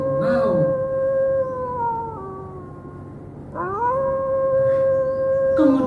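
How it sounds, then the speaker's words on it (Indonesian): A wolf's drawn-out howl rises and falls in two long, clear tonal calls, loud and close, used as a sound effect in a children's story. "akhirnya anak-anak terdengar longlongan serigala"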